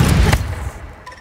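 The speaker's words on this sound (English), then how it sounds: "Grenade! Throwing grenade!" A grenade blast in the video game Second Extinction, a single loud low boom with a sharp crack that decays over about a second, no speech over it.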